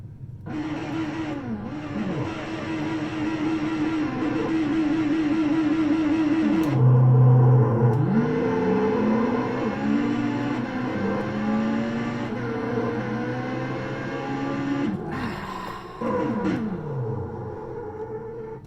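Drag racing cars in the Wii game Drag & Stock Racer on a quarter-mile track. Engines rev up and shift through gears, with falling and rising pitch sweeps. A loud surge comes midway, then another launch near the end.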